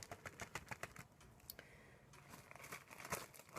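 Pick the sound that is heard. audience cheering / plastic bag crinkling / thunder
plastic bag crinkling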